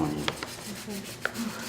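An ivory carving of a whale's tail is sanded by hand with 220-grit sandpaper. Soft, close, scratchy rubbing strokes are broken by a couple of sharp little clicks.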